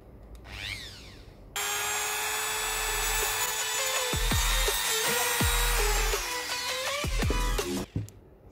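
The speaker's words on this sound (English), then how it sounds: "Now let's try to sand aluminum." A cheap Kkmoon rotary tool spins up with a high, steady whine and grinds against aluminum, its pitch wavering and dipping as the sanding bit bears down on the metal before it winds down, close and with no talk.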